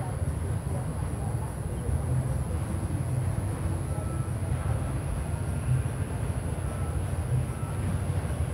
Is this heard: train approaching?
yes